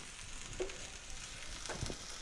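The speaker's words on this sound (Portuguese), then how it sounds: "Nossa manteiga derretendo." A soft, steady sizzle of butter melting in a frying pan for Moroccan couscous, faint and even with a couple of small pops.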